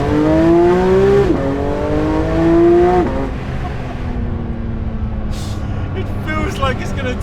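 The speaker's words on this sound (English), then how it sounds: "Another little exhaust test." Porsche 992 GT3 RS exhaust on a 2023 car, revving hard in two rising pulls that drop off sharply, then settling into a steadier lower drone with faint higher blips near the end, loud and close.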